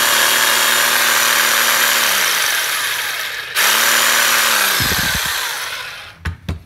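A used Japanese power drill with a faulty body that runs without reaching full speed, switched into hammer mode, drones loudly and steadily, winds down, restarts, then ends in a few sharp knocks.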